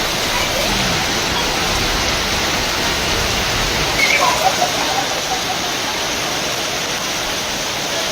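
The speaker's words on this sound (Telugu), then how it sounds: "ఉమ్మడి నిజామాబాద్ జిల్లాలో వర్షం దంచికొట్టింది." Heavy unseasonal rain pours down across the Nizamabad district of Telangana during a thunderstorm, a dense, loud, unbroken hiss that holds steady throughout with no voices.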